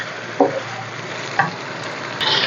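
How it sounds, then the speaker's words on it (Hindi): Chicken fries with garlic, ginger and green chili paste in a pan for Sindhi biryani, giving a steady close sizzle with a few short scrapes and knocks of stirring and a brighter hiss rising at the end. No one speaks. "अब इसको चिकन के साथ हम भूनेंगे।"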